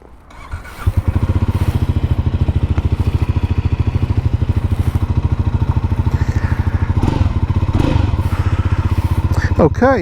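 A Triumph Scrambler 400 X's 400cc single-cylinder engine fires up and settles into a steady, close, even thumping idle, with a slight swell in revs near the end.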